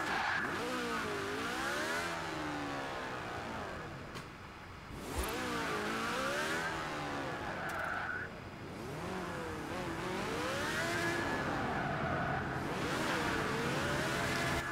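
Austin 7 in Forza Horizon 4, its small engine revving repeatedly with rising and falling pitch sweeps, loud and close, broken by brief gear-shift dips and a short tire squeal.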